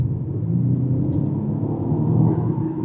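A four-cylinder performance car accelerates hard, its engine a low, steady rumble heard from inside the cabin with a slight rise toward the end.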